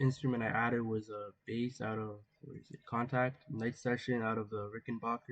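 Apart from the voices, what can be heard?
None of the usual background noises is heard.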